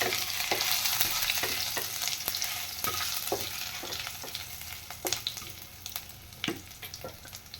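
Crushed nigella seeds and garlic frying in hot oil in a home kitchen, a steady close sizzle with occasional sharp pops and spatters throughout.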